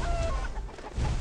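A chicken in the What The Hen video game clucks in a short, close burst, a few quick clucks over low background game sound.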